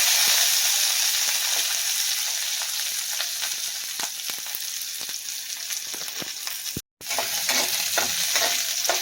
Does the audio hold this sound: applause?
no